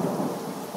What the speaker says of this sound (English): Back at the park, it was cold and started raining.